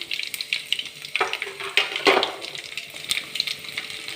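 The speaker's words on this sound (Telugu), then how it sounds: "ఆయిల్ వేడెక్కాక ఆవాలు జీలకర్ర వెల్లుల్లి వేస్తున్నాను" Mustard seeds, cumin and garlic crackle and sizzle in hot oil in a pan on a stove, a steady close frying hiss with sharp pops and spatters building as they hit the oil.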